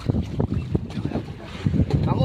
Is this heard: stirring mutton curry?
no